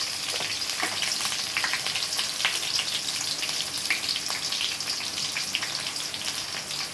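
Onions frying in hot oil in a pan for a tomato dish, a dense continuous sizzle like light rain with quick stirring scrapes running through it, close and even without pause.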